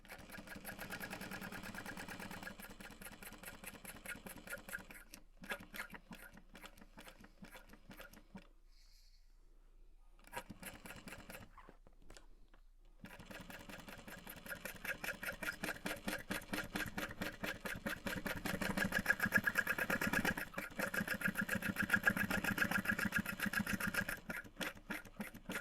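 A sewing machine running with a long stitch length, stitching in steady rapid bursts of mechanical clatter with brief pauses between runs, growing louder toward the end.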